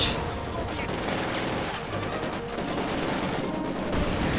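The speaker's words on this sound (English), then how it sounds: "Nice volley there from the field guns, quickly wipe that out." Dense volley of field gun fire in a Company of Heroes 2 match, a continuous loud barrage of overlapping booms and crackling shots rolling through the whole stretch with no pauses.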